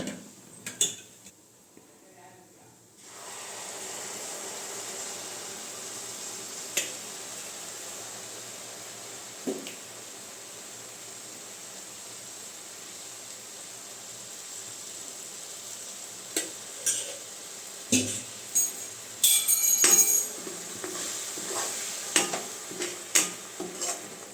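Jaggery syrup strained into a pan of aval (poha) for aval laddu, heard as faint steady kitchen hiss with scattered clinks and scrapes of a utensil against the pan, a few louder clatters near the end.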